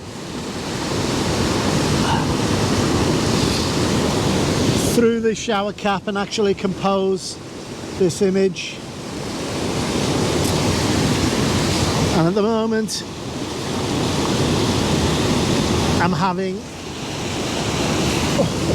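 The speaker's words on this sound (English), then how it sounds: "I'm having the water flow on either side for the time being" Roaring water pours down falls on either side at a dangerous landscape location, a loud steady rush broken by bursts of someone talking over it, with wind buffeting the microphone.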